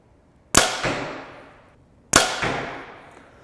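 Two arrows shot from a bow into 3D archery targets at about 20 yards, each a sharp close impact thud followed by a decaying ring, spaced well apart in a quiet indoor range.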